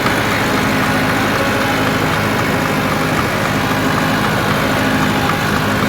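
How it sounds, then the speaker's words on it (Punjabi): ATS 290 blue tractor engine running steadily while pulling a rotavator in third gear, a loud continuous low diesel drone that stays even throughout with no pauses and no voices. "ਲਓ ਜੀ ਤੀਸਰੇ ਗੇਅਰ ਦੇ ਅੰਦਰ ਜਾ ਰਿਹਾ ਰੂਟਾਵਾਟਰ"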